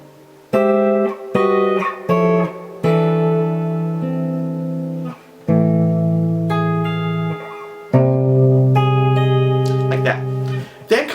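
Electric guitar plays a chord section with tapping: a series of sustained, ringing chords struck one after another at a moderate, slightly quickening pace, heard clearly and alone.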